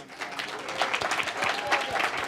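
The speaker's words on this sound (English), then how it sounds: "Please stand. Give them a round of applause." Loud, steady clapping from an audience at an anniversary gathering, a dense round of applause filling the whole stretch.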